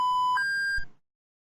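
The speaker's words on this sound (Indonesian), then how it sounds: "Dan ketika sensor level mencapai nilai maksimal seperti ini, maka alarm akan menyala." A clean electronic alarm beep from a VTScada HMI simulation of a molasses tank hitting its maximum level: one steady tone that steps up in pitch partway through, then cuts off into silence.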